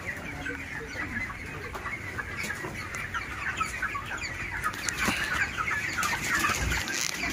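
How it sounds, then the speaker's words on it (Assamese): Broiler chickens on a poultry farm built over a pond cluck and chatter in a dense, steady flock chorus, with occasional wing flaps, continuous throughout at moderate loudness. "চৰাইবিলাক চাওক"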